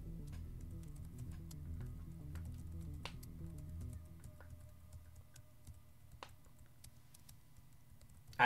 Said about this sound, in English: I love the ASMR cow typing laptop noises going on right now.